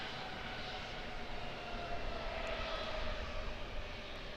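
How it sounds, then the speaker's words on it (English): Steady roar of an Airbus A320's IAE V2500 jet engines as it passes at Auckland Airport, broad and continuous at moderate distance, with no voices. "Do like the sound of those IAE V2500 engines."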